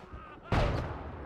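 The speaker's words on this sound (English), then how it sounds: "Okay, got killed by a cannon." Cannon fire in the First World War shooter Isonzo lands as one loud, sudden boom with a broad rumbling tail that fades over a second, following quieter battlefield ambience.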